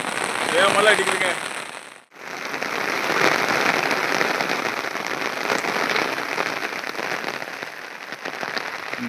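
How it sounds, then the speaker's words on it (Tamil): Heavy rain beats down steadily at a campsite, a loud, continuous rush of drumming drops close by, broken by a brief dip before surging back for the rest of the stretch. "மழை அடிக்குதுங்க."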